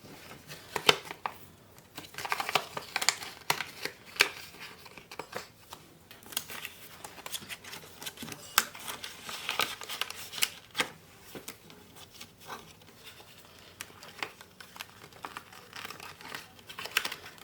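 Paper cash bills in twenties and tens are handled and sealed into budget envelopes, a red one among them, giving close, soft crinkling and rustling with frequent sharp paper snaps and taps in an irregular rhythm, with no talk.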